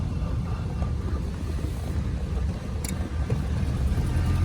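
A 1935 Packard Standard 8 convertible sedan's engine runs steadily at low RPM, a close, continuous low rumble that holds an even level throughout with no talking.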